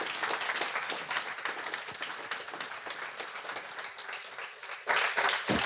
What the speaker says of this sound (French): je pense qu'on peut encore l'applaudir une fois